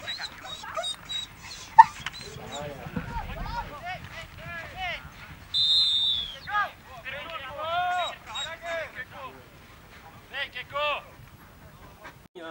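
Dogs at a polo match in Brazil yipping and whimpering in short high bursts, near and moderately loud, mixed with people talking nearby.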